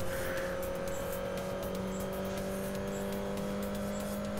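Race car in Grid Autosport, a Mini Cup event, with a steady sustained engine drone and faint tire noise, continuous and fairly even in loudness with no talk.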